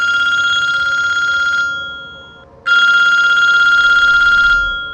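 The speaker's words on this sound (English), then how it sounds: "30 minutes later, the phone rang again." A telephone ringing loudly and close by, two long electronic trills separated by a short pause, with no other sound around them.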